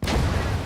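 A grenade explodes in the Gates of Hell World War II video game, a single loud, close boom whose low rumble fills the whole short moment.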